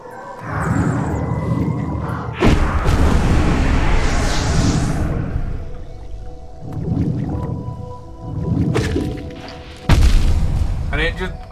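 Explosions in the video game Hollow Knight, several heavy booming bursts with sudden onsets and rumbling decay, loud and close, separated by gaps of low rumble.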